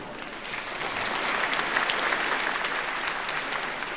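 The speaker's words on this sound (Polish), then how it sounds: "Dobrą poezję należy nagradzać oklaskami." A comedy stage audience applauds warmly, a dense, steady wash of clapping that holds at even loudness for several seconds with no voices on top.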